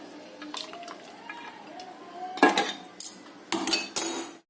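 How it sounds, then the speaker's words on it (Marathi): Cooked sprouted moth beans are drained through a strainer set over a pot, giving close metallic clinks and clatter of the utensils followed by short, louder bursts of pouring and splashing water. "एका भांड्यावरती चाळण ठेवून हे पूर्ण पाणी काढून घ्यायचं"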